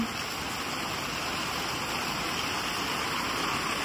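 Steady rain pours onto mulberry, mango and neem trees in Ashok Nagar, Ranchi, a dense continuous hiss of drops on leaves with no breaks, moderately loud and even throughout.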